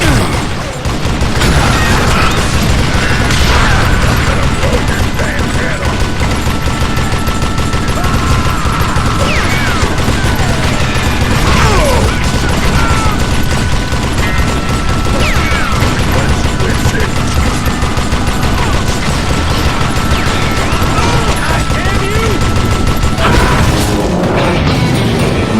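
Gunfire in the Western shooter game Call of Juarez: Gunslinger: a loud, dense barrage of shots with crashing impacts and booms that runs without letup for the whole stretch.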